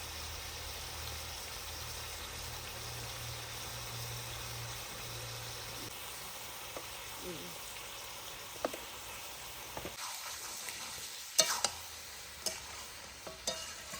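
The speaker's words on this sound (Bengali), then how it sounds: "এটা ভালো করে এটা ভেজে নেবো আমি আগে।" Mutton frying with turmeric and dried chilli in a village-style curry pan, a steady soft sizzle under scraping stirs that grow into sharper clatter and knocks toward the end, with no voices.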